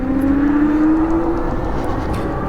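Ridstar Q20 electric bike pulling away at full throttle with no pedalling: a steady motor whine climbs in pitch for about a second, then fades under a constant rush of wind and ride noise.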